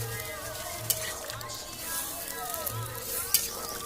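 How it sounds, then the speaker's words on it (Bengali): Curry gravy with jackfruit bubbles and simmers in a pan, a soft continuous sizzling hiss with light stirring and a couple of sharp clinks, under intermittent speech. "ঝোলটা ফুটে উঠেছে, ঝোলটা ফুটছে"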